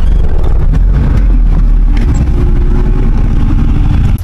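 A car parks at the Katradevi jatra fair in Rajapur, its engine rumbling low and steady up close for a few seconds before cutting off abruptly at the end, with no talk.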